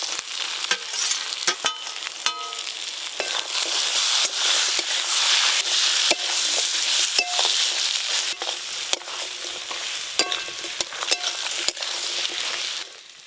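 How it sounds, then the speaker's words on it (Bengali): Fried crab stir-fried with spice paste in a pan gives a steady, loud sizzle and crackle, with scraping stirs and spatula knocks throughout and no talking. "এই দেখুন মশলার সাথে কাঁকড়া খুব ভালো করে কষে নিয়েছি"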